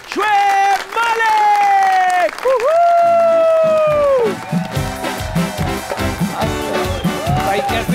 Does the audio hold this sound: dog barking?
no